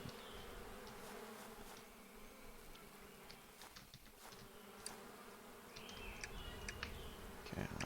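Bees in the video game APICO buzz continuously at a soft, steady level, with small ticks and clicks scattered over the drone.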